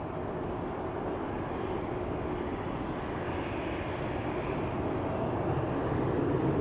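An Austrian Airlines jet departing Amsterdam Schiphol for Vienna roars with a steady, broadband engine rumble that holds at a constant loud level throughout, close up, with no talk over it.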